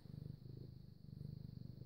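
A cat purrs close up with a soft, steady, rhythmic rumble that pulses evenly throughout, faint and unbroken.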